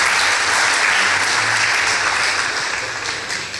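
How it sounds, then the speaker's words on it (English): A school debate audience applauds two girls' school teams after a tied result, a loud, dense roar of clapping filling the hall and easing off gradually near the end. "Please give them a round of applause"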